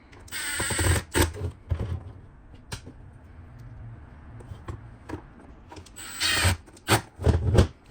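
Screws being tightened with a drill while a JBL Boombox speaker is reassembled after a battery replacement, short bursts of whirring and ratcheting mechanism noise separated by quiet pauses, close and moderately loud.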